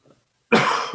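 A single harsh cough from a person recovering from laryngitis, loud and close, bursting out after a moment of near silence.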